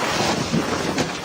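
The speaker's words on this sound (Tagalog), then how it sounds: "Sa videong ito, makikita kung gaano katindi ang hangin" Strong Santa Ana wind during Los Angeles wildfires roars and buffets the microphone in a brief, continuous rush.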